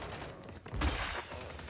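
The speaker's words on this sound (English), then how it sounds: "I'm getting shot from behind" Muffled gunfire in the Warzone 3 shooter comes from behind the player, a quiet rattle that swells into a louder burst midway and then settles into lingering rumble.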